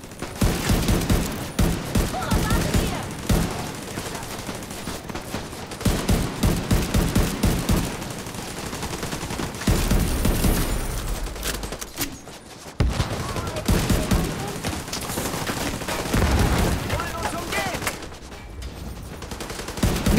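Rapid gunfire from The Division 2 video game, including pistol shots, sounds as loud, dense bursts of overlapping shots and fusillades across the whole stretch, with brief pauses between volleys.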